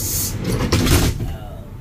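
A DLTB passenger bus door with new rubber seals swings shut with a short, muffled thud close by, over a steady background rumble and a faint murmur of voices.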